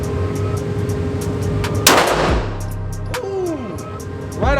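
A single loud gunshot from a large handgun fired one-handed at an outdoor gun range, a sharp crack followed by a short ringing decay over steady background noise.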